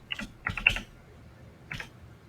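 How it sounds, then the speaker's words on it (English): Short bursts of typing on a computer keyboard, a quick cluster of keystrokes followed by a pause and one more brief burst, close and fairly quiet. "What are you typing up?"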